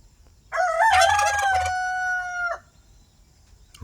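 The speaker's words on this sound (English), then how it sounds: "Rooster, chicken, crow," A single rooster crows one full cock-a-doodle-doo, loud and close, rising sharply then holding a long drawn-out final note before stopping abruptly against a quiet background.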